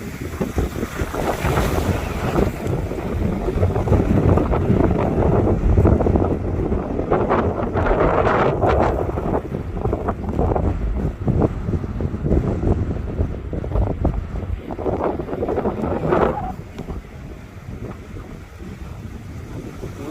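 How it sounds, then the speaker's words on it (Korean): Strong sea wind buffets the microphone near a breakwater, roaring loudly and continuously with gusty surges and crashing waves beneath. "바람이 꽤나 부네요."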